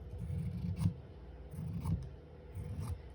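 Scissors snip through hand-made batik bias tape fabric in three close, quiet bursts of crisp cutting, each roughly half a second long with brief pauses between.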